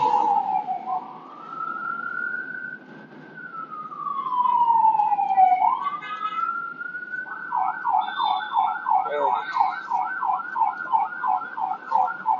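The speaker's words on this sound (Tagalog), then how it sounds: "Ambulansya namin yan sa shooting." Ambulance siren wailing up and down in long sweeping tones, then switching to a rapid warbling yelp, loud and fairly close, with a faint voice briefly underneath.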